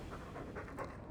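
A dog pants in Dragon Age II, quick rhythmic breaths heard close and fairly quiet for about a second.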